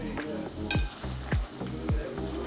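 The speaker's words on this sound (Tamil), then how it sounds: "நான் இப்போ ரீஃபைண்ட் ஆயிலில் தான் பொரித்து எடுத்து பண்ணுறேன்" Steady, loud sizzle as motichoor laddu batter fries in refined oil, with three rhythmic tapping strikes of a utensil over the hiss.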